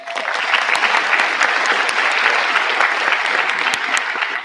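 Audience at a high school graduation ceremony claps in a dense, sustained burst of applause, loud and close, holding steady throughout without fading.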